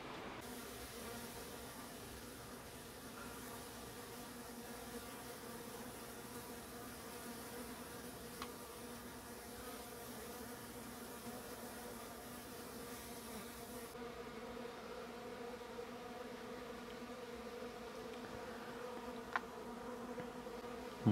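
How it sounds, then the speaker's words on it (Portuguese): Bees swarming and buzzing during the splitting of a hive, a steady close drone of many insects with a few individual bees flying past, no talk. "Muita abelha aí, muita campeira."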